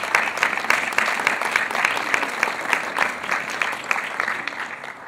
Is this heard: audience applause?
yes